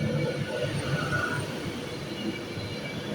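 An Avanti West Coast train, unit 390148, moves through Rugby station, a soft rolling rumble with a faint high whine, heard at moderate distance and quiet throughout.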